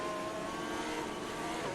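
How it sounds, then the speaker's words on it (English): A Formula 1 safety car lapping a wet Suzuka circuit in a racing game, a steady, continuous engine drone with spray and hiss of rain blending into an unbroken wash of sound. "So as the car continues to move around here"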